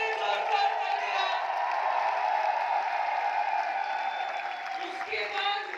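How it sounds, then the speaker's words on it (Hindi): A convention crowd claps and cheers with whoops and raised voices, a dense, steady wash of sound that swells briefly and then tapers off near the end. "सत्यदीप सर के लिए जोरदार तालियां।"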